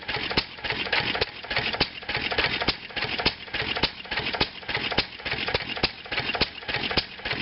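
A 1929 McCormick-Deering type M flywheel engine with a homemade glass-pack muffler runs steadily close by, a sharp regular exhaust bark repeating about every half second over a continuous mechanical clatter.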